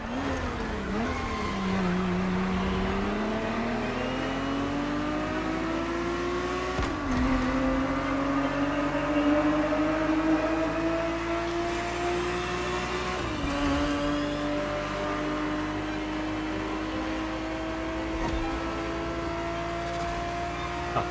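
A Ferrari race car in The Crew Motorfest, styled on 1970s racing, roars through repeated gear shifts, its engine note climbing and dropping sharply at each change, loud and continuous.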